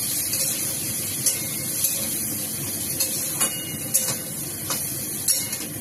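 Cumin, coriander, turmeric and chilli powder fry in a pan with a low, even hiss. Occasional soft clinks and scrapes of a spatula sound against the pan, with no voices.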